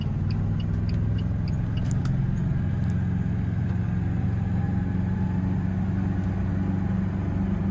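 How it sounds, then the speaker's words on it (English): A European moped car with a tiny engine and automatic transmission drives along, its small motor droning steadily with a buzzy, quad-like hum and a few faint clicks over the top. "it sounds like a super small engine"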